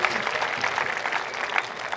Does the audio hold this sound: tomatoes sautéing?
no